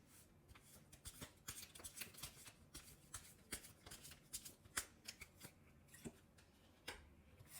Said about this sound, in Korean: 두 분 관계에 대한 조언 카드 한번 뽑아보도록 할게요